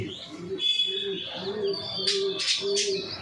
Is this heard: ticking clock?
no